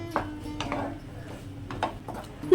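A metal spatula stirs boiled taro flowers in a pan, giving a few scattered scrapes and soft clinks against the pan's metal, close by and moderately quiet.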